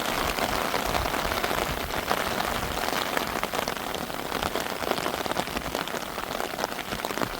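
Heavy rain pours down at Mullivaikkal, a dense, steady, loud patter of drops on surfaces that continues without pause and with no voices.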